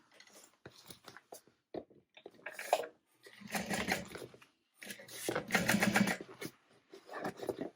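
Domestic sewing machine top stitching through the seam allowance on a fabric backpack tote, several bursts of steady motor whirring and needle clatter separated by short pauses, close and fairly loud with no talk.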